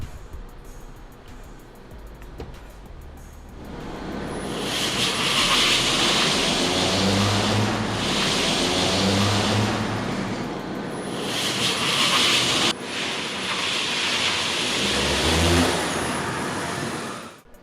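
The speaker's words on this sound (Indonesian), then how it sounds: "gue langsung pengen nyobain langsung aja ya torsi instan yang ada di Nissan Kicks ini" A 2020 Nissan Kicks e-Power pulls away hard from a standstill: a quiet interior hum suddenly swells into a loud, sustained roar of motor and road noise with a few surging pulses, and no talking.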